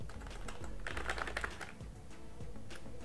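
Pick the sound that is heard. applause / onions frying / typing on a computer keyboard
typing on a computer keyboard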